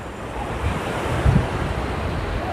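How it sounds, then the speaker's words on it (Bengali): Sea waves rolling onto the sand at Cox's Bazar beach on an overcast day, a steady broad wash of surf mixed with wind buffeting the microphone, with one brief low gust. "এখন দেখেন যে এই যে সমুদ্রের ঢেউগুলো আসতেছে"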